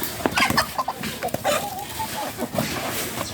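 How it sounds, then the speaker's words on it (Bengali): A flock of backyard hens clucks while feeding, with a rooster in the yard; close, busy clucking and short calls sound alongside a person speaking. "দেখেন কতগুলো মুরগি।"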